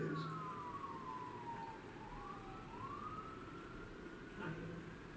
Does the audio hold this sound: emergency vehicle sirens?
yes